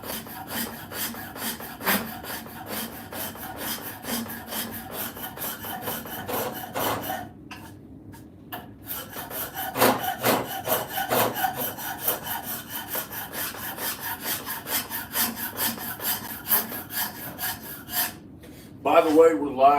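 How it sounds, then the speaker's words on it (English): Shinto rasp shaping a wooden axe handle, with steady rapid rasping strokes running for long stretches, a short pause midway, then more filing, close and prominent. "So now I'll still hit it with the Shinto rasp."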